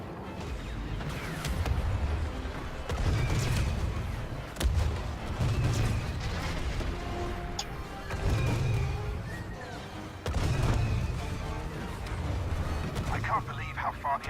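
Repeated heavy booms and bursts of gunfire roll through a busy battle scene in the Star Wars Battlefront II campaign, with voices talking over the continuous din.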